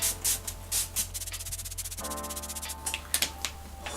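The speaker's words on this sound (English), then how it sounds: "I'm just going to set my face with the NYX Dewy Finish Setting Spray." Several short hissing mist bursts of NYX Dewy Finish Setting Spray onto a face, close up, spaced out over a few seconds with a faint background hum.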